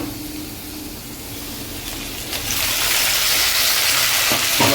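Spice paste frying with pointed gourd and shrimp in a pan, a steady loud sizzle that swells and brightens halfway through as stirring continues, with a few scraping knocks near the end.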